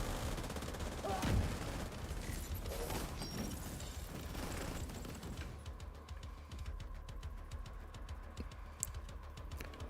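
Video game gunfire crackles in rapid bursts while shooting targets, dense and continuous, then thins out alongside faint keyboard-like clicking.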